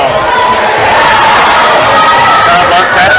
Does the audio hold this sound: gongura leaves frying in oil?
no